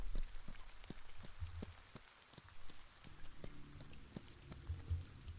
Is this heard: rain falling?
yes